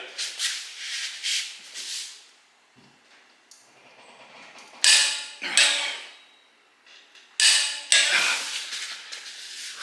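A torque wrench tightens ARP bolts to 345 during an HKS 264-degree cam install on an RB26 engine. Close, strained creaking comes in several sharp bursts, with short quiet gaps between the pulls.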